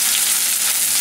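Cod fillet frying in butter in a pan, a loud dense steady sizzle heard up close for a brief moment, with no voices.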